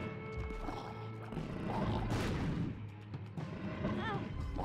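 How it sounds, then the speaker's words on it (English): A bomb blast in The Binding of Isaac: Afterbirth+ booms through a dense, busy stretch of game sound effects, with a burst of low rumble amid clashing noises at moderate level. "I used a bomb"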